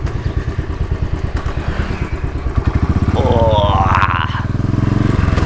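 Moto Guzzi motorcycle passing by on a ride around Lake Geneva, its pulsing engine firing close and loud and rising in pitch as it goes past, with a brief spoken exclamation.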